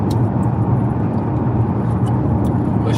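Inside a car on a drive, a loud steady engine and road rumble fills the cabin with no breaks and no talk.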